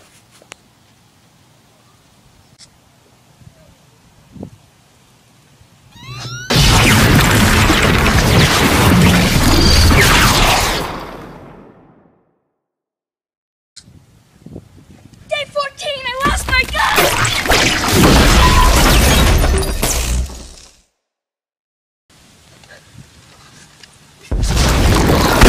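Two long, loud roaring blasts from a new gun fired at an alien in a game, each lasting several seconds with crashing, booming texture, separated by quiet gaps, with another blast starting at the end.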